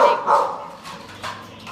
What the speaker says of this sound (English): deaf dogs bark, deaf and blind dogs bark